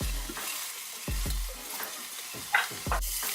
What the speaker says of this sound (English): we don't want to let the garlic burn, so we want to stir that around